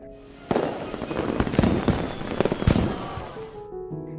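Fireworks crackle and pop in a rapid series of sharp bursts over a steady hiss on a beach, fairly close, fading out after a few seconds.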